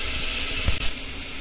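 Vegetables sautéing in a pan for a daliya dish, a steady close hissing sizzle with a brief muffled knock midway; no voices.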